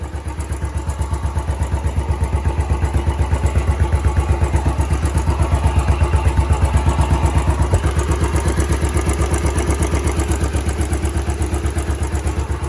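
Royal Enfield Classic 500 Stealth Black single-cylinder motorcycle idling close by, a steady, even thump-thump beat with mechanical clatter that holds for over twelve seconds with no voices.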